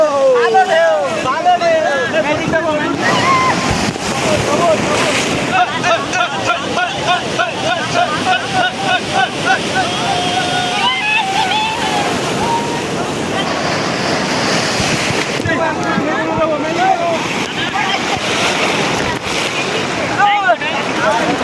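Sea waves roll and break steadily on Digha beach, a loud continuous surf wash with wind buffeting the microphone, while people talk nearby throughout.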